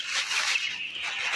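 Broiler chicks in a winter brooding shed chirp in a continuous dense high-pitched chorus, close and steady, with no talk.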